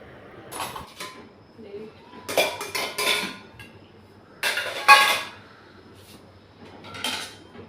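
Dishes and steel utensils, including plates and a pressure cooker, clatter and clink in several separate bursts as they are unloaded from a dishwasher, set down one after another at close range, with quiet pauses between.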